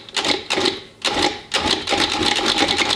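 A food processor pulses butter and shortening into flour and salt for an apple pie crust, giving three close, loud whirring bursts split by brief pauses, with no talking.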